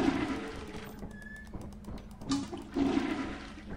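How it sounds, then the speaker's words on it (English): A toilet flushes in the video game Lethal Company, a faint, steady rushing of water with small clicks and clatter over it, swelling slightly near the end. "I'm flushing here."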